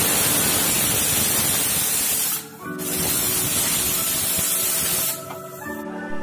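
A pressure cooker on the stove releases steam in a loud, continuous hissing spray that drops briefly twice before resuming, with no one speaking.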